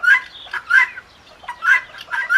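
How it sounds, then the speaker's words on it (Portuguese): A helmeted guinea fowl (Numida meleagris) gives repeated harsh, cackling two-part calls in quick bursts with short pauses between, loud and close, with no other voices. "a espécie de nome científico Numida meleagris, que é a galinha da Angola comum"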